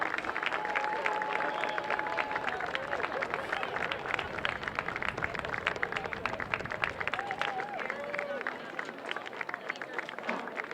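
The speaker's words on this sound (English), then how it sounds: "Let's give another round of applause for our senior members of the football team" A high school football crowd applauds senior players at a game against North Hunterdon, dense continuous clapping and cheering throughout, with a few faint whistles rising above it.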